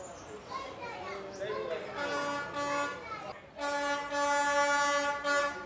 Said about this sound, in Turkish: Tren gelecek şimdi.